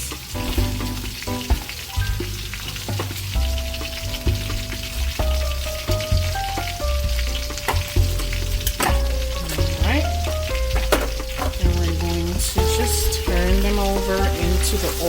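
Shrimp pieces frying in oil with aromatic seasonings for salt and pepper shrimp, a steady loud sizzle with stirring, with music playing throughout.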